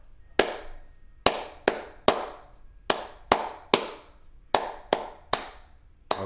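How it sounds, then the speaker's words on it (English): Bright hand claps tap out the rhythm of the fiddle tune Hoe Down for a rhythm reading lesson, about a dozen sharp claps in an uneven short-long pattern, close and unaccompanied. "I now clap and read Hoe Down"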